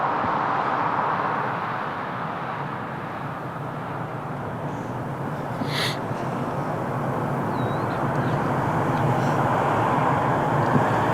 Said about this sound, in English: A330neo, 330neo from Luanda, Angola.